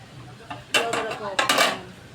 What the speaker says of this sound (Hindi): बर्तन तो उठा कर रखो